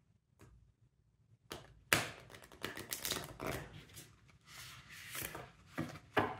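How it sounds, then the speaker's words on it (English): Tarot cards are shuffled by hand close to the listener, producing quick papery riffles and taps that come in bursts of varying loudness, with no talking. "I would just shuffle like this and try to get some reverse cards as well"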